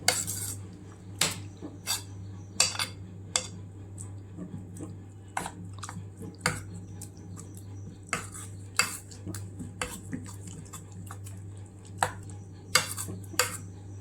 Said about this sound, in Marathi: आता हे असं व्यवस्थित असं मॅश करून घ्यायचं आहे।